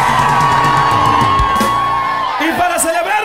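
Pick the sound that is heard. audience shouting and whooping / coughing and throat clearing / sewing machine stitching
audience shouting and whooping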